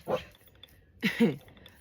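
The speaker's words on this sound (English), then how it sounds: "Oh, that's my dog." A dog barks indoors, two short nearby barks about a second apart, with no talk over them.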